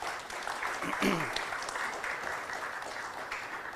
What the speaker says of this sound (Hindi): उनकी उत्साहवर्धन के लिए हम एक जोर से ताली बजा सकते हैं।